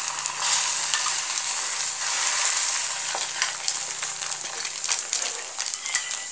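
Egg sizzling and frying in oil in a pan with noodles for Indian street-style chicken egg triple noodles, a steady bright crackle with occasional stirring scrapes, close and continuous with no talk.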